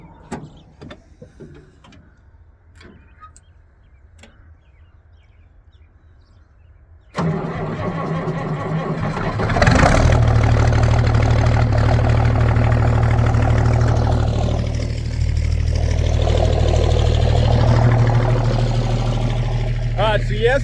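A Farmall 806 tractor on a chilly morning cranks and fires up, then settles into a loud, steady rumbling idle close by after a quieter stretch of faint clicks and rustling.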